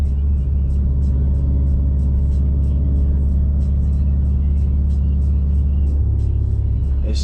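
A 550whp Subaru STI rumbles from inside the car while driving, a deep, steady low-frequency drone with faint ticking above it and a slight shift in tone near the end.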